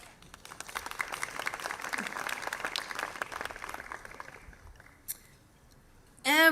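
Audience applause at an evening community event, many hands clapping steadily at moderate distance before fading out, followed by a brief louder burst of noise at the end.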